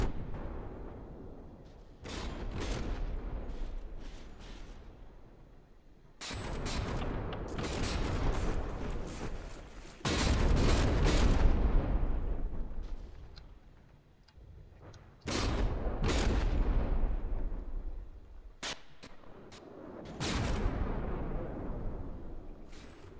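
Warship naval guns fire repeated volleys in a naval battle video game, heavy booming salvos every few seconds that roll and decay into rumble between shots, with no talk.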